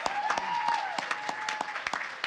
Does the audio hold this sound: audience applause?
yes